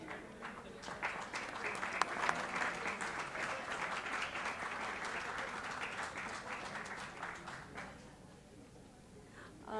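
An audience at an international pharmacy conference applauds, a dense sustained clapping that swells and holds for most of the stretch before tapering off, heard from a middle distance in a large hall.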